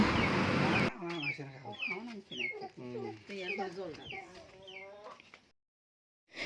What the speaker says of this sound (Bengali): দেখো মোরগো নিয়ে এসছে